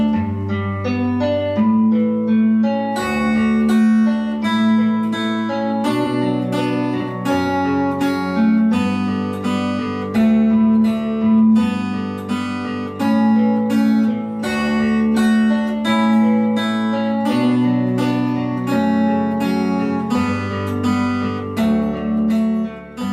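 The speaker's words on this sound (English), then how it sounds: "we're going to play the melody, but we're going to play each note that is involved in the melody twice" An instrument plays the melody of Pachelbel's Canon with every note sounding twice in quick succession, moving evenly along with a low accompanying bass.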